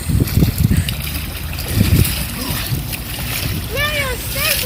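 Splash of someone jumping into a river, loud, close water bursts with excited voices shouting over and around it, outdoors.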